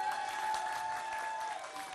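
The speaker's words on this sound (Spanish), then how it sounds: "Un aplauso para Karen." An audience claps steadily at a children's celebration after a girl is praised for her good grades, a dense, even wash of applause that fades slightly toward the end.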